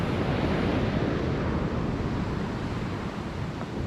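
Waves break on the shore at Easington during sea fishing, a steady close rush of surf mixed with wind buffeting the microphone, no voices.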